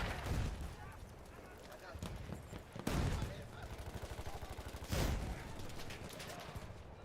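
Machine gun fire in Battlefield 6 multiplayer, rapid bursts of automatic shots with heavier booming blasts at intervals, mixed with other game noise and people talking over it.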